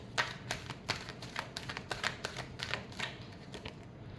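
A deck of tarot cards is shuffled close by, with steady quick riffling taps and flutters that keep on for several seconds, with no talk.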